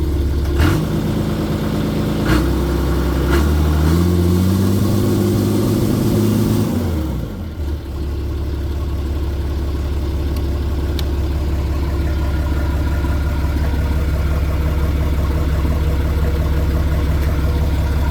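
Caterpillar bulldozer diesel engine idling with a steady low rumble, its pitch stepping up and down as the throttle is adjusted early on, then settling into an even, loud idle with no talk.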